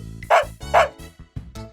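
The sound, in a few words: dog barking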